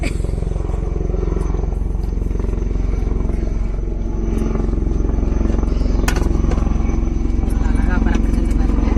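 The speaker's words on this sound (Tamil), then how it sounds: "எங்கள் ஊர் சைடு ஒரு ஹெலிகாப்டர் பறக்குது" A steady, loud mechanical drone of a helicopter throbs throughout, with clattering and faint voices mixed underneath.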